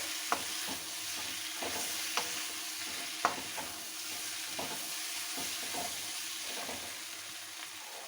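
Capsicum roasting in a hot tempering pan gives a steady, fairly quiet sizzle, broken by a few sharp clicks and clatters from stirring. No one speaks.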